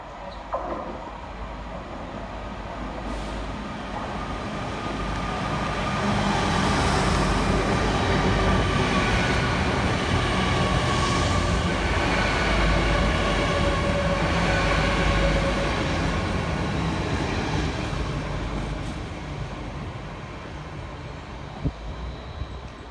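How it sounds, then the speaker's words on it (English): A TransPennine Express Class 802 bi-mode train running through Dewsbury station, a steady rumbling roar of wheels and engine that swells as it passes close, holds, then slowly fades, with faint rail squeals and clicks near the end. "Trundling up behind him will be 8:02-201, working 1K12 for Transpennine Express from Hull through to Liverpool Lime Street."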